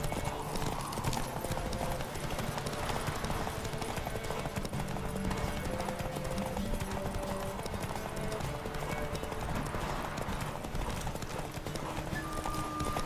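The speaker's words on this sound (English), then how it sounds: "Come on, you stupid horse. Get your stamina back." In The Witcher 3, a horse races at full gallop, its hooves pounding in a continuous fast rhythm for the whole stretch, with a brief whinny and occasional speech underneath.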